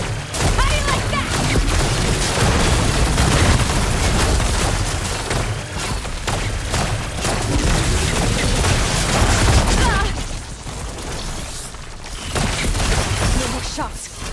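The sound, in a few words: heavy weapon gunfire in the video game Horizon Forbidden West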